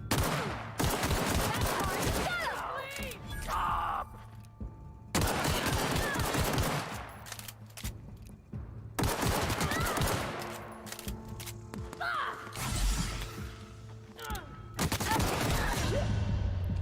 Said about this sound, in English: Good gosh, that auto rifle.